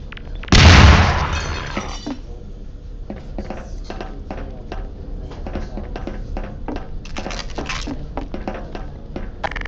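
A grenade goes off in Half-Life 2: Episode One, one loud close blast with shattering debris near the start. The burst fades into a low rumble and scattered clatter, with faint movement and game ambience after it.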